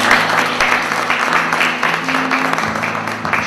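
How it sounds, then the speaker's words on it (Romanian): Applause for the volunteers at a Romanian Red Cross gathering, a loud, close crowd clapping with a steady rhythm over a low sustained hum, with voices mixed in. "cele mai multe aplauze le merită voluntarii"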